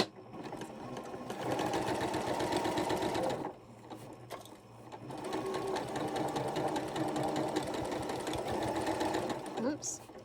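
A sewing machine stitches a quilt block for a sampler quilt, a fast rhythmic whirring hum that runs in two long bursts with a short pause between them, with a voice talking over it.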